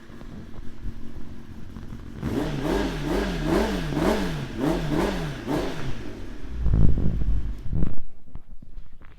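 A 2016 Kawasaki ZX10R sport bike fires up and revs in a rhythmic series of sharp throttle blips, loud and close, before the engine cuts off and falls silent.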